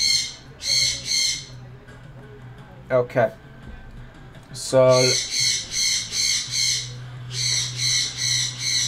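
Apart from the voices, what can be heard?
pet bird squawking and screaming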